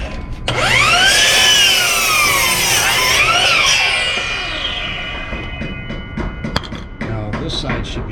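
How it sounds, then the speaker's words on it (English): A compound miter saw blade spins up and cuts through two pieces of wood at once, a loud whining motor with the tone dipping under load, then winding down, followed by faint knocks and handling sounds. "you can cut through both of them at the same time with a compound miter saw"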